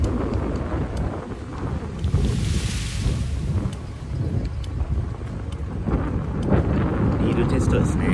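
Strong wind buffeting the microphone outdoors during a ride by the Hanamigawa river, a loud continuous roar with gusty surges throughout.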